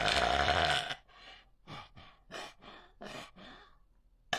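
Inhaled burp brought on by a swallow: a short swallowing sound followed by a run of several croaky, rhythmic gulping burp pulses, close and fairly loud, with no talk.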